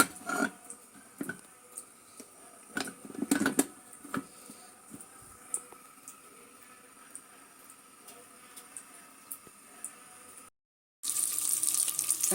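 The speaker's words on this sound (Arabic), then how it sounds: "هغسل الرز بقى وارجع لكم تاني" Running water pours from a kitchen tap while rice is washed in a pot, a steady faint stream with intermittent clinks and splashes, then a brief gap before a louder rush of water at the end.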